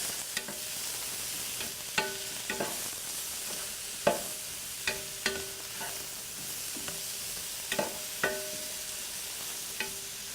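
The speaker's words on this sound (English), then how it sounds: "Okay, so we've got the garlic and the mushrooms in here now." Garlic and mushrooms frying in a pan, a steady hissing sizzle broken by repeated sharp utensil scrapes and taps as they are stirred.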